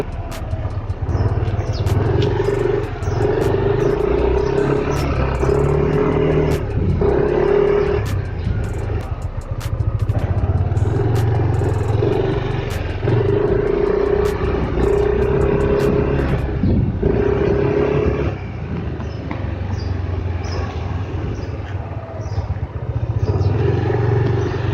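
A 2020 Yamaha Nmax scooter running on Pertamax Turbo fuel, its engine giving a steady droning hum with a low rumble, rising and easing slightly as it rides around a residential complex, continuous and fairly close.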